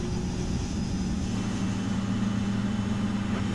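Boeing 777 freighter engines in the FSX flight simulator with the PMDG 777F add-on, a steady low engine drone and idling hum at Amsterdam, continuous and fairly loud with no talk.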